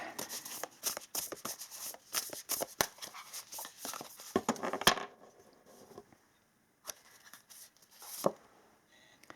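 Tarot cards are shuffled up close in a quiet room, a run of soft riffling and snapping card sounds that pauses, then returns as a few isolated flicks.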